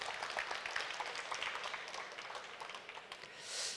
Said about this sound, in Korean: 그렇게 느껴지시는 분은 박수를 한번 쳐주시기 바랍니다